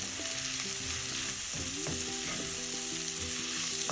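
Spinach and lentils stir-frying in a pan for a Kerala thoran, loud close sizzling with clattering spoon scrapes and stirring knocks, some ringing utensil tones, no talking.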